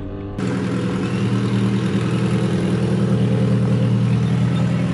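A car fitted with an LS V8 engine runs with a loud, steady, deep drone that kicks in abruptly and holds without pause.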